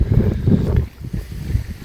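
Gusty wind by a riverbank buffets the microphone in low rumbling bursts, strong at first, then dropping off and returning in weaker puffs.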